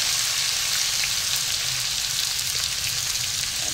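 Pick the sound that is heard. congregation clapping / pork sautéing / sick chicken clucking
pork sautéing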